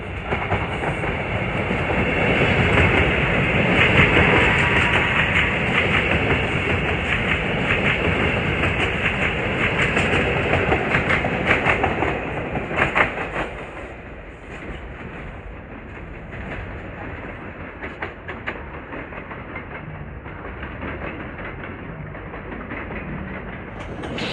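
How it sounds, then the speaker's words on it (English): SEPTA train 6334, bound for West Trenton with Silverliner V cars, rolls past Wayne Junction with a loud steady rumble and rhythmic clatter of wheels over rail joints, fading to a lower roar as it moves away. "Here comes 6334 bound for West Trenton with some beautiful Silverliner 5s."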